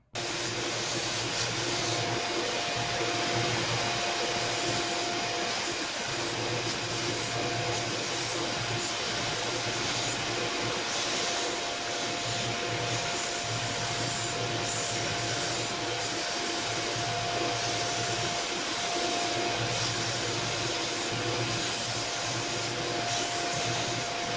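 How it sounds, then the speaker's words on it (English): A sander shapes a tobacco pipe, giving a loud, continuous motor whine with a rough rubbing grind that holds steady throughout, with no talking. "I'm going to work over here at the sander"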